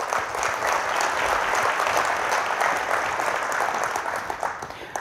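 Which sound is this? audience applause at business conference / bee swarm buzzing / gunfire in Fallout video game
audience applause at business conference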